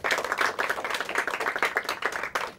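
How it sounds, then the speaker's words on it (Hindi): A quiz-show audience claps for a tied team, a lively patter of many hands filling the room at a steady, fairly loud level with no talking over it. "इनके लिए भी तालियां हो जाएं।"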